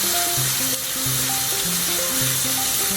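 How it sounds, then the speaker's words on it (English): Yogurt being stirred into a hot sizzling pan for an Indian dish, giving a steady, loud broadband sizzle throughout, with a tonal melody playing underneath. "the moment you add the yogurt, you gotta keep stirring and don't worry about it curdling"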